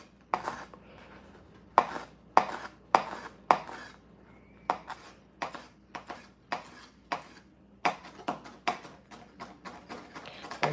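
A knife chops a nectarine on a cutting board in sharp, close taps, first in spaced pairs, then in a quicker, steadier run of lighter cuts in a quiet kitchen.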